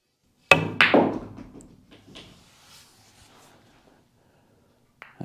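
Billiard balls on a pool table click sharply as the cue ball bumps the 8 ball, two quick knocks followed by a softer rolling rumble and fading contacts, with a faint tap near the end.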